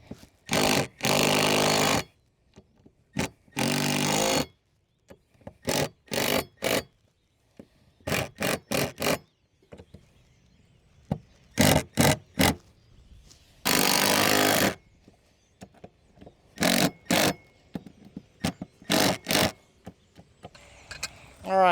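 A power tool drives screws while a dual bow mount is fastened down on a boat, heard as repeated short whirring bursts with gaps, some longer runs, and small clicks and handling noises between them.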